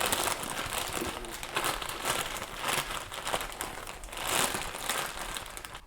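A plastic bag crinkles and crumples continuously as it is folded and shaped by hand into a small container around a cut on a ficus benjamina branch, close and fairly quiet, with no talking.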